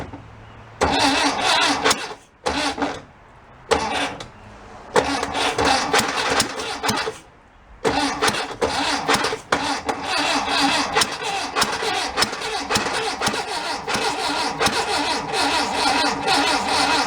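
An old barn-find Volkswagen engine cranks and catches with a few stuttering starts, then runs rough and revs up loudly under throttle, close and continuous.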